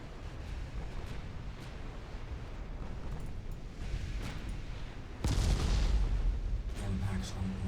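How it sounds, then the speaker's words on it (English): Shells strike a battle cruiser in the naval combat game Ultimate Admiral Dreadnoughts, with low rumbling and scattered thuds building to a sudden heavy, loud impact burst near the end, then a lingering crackling rumble. "Impacts on my battle cruiser."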